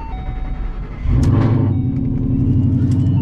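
A 700-horsepower Ford Mustang S197 cranks over in cold weather and catches at about one second, settling into a loud, close, steady rumbling idle that holds to the end.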